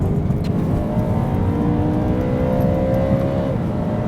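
A BMW E92 M3 with a modified exhaust, driven in M mode, roars loudly as the engine climbs steadily through the revs, a continuous close-up growl with no talk over it.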